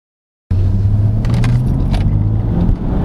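A 2018 Land Rover Discovery SE SDV6 diesel SUV sets off for a drive. Silence cuts suddenly into a loud, close, steady engine rumble from inside the cabin, with a few light rattles and jangles over it.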